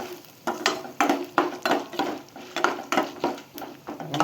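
Urad dal and asafoetida fry and get stirred in a pan for lemon rice, with a steady sizzle under repeated scraping strokes of a spoon against the metal, close and fairly loud.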